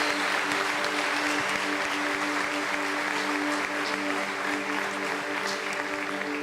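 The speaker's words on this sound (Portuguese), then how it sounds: "dê mais uma forte salva de palmas" A church congregation applauds during a pastor's service, steady sustained clapping over a humming musical background, moderately loud and even throughout.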